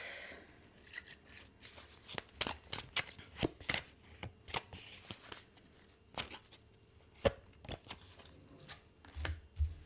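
Playing cards shuffled for a card reading, a quick run of crisp riffling snaps and flutters in steady bursts, close and fairly quiet, with no voice over them.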